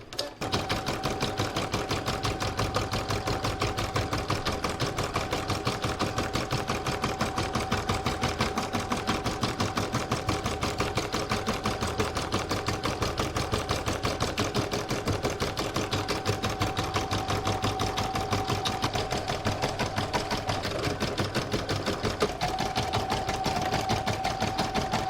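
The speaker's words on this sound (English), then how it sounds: "So I'm now going to stitch out this design." An embroidery sewing machine stitches a Christmas block design on toilet paper, a rapid, even, mechanical rattle of the needle running nonstop at close range without pauses or talk.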